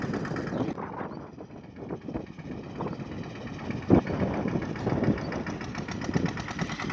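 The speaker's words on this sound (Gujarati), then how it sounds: "આવી ગયા ટ્રેક્ટર લઈને" A tractor engine idles in a farm field at sowing time for groundnut and cotton, with a steady low mechanical rumble and a few louder knocks.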